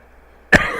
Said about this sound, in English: That's stupid cough all day.